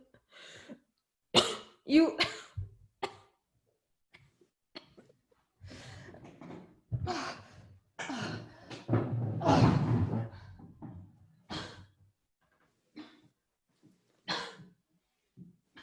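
Several sharp, close coughs and throat-clearing bursts, separated by pauses, with a longer rough stretch partway through.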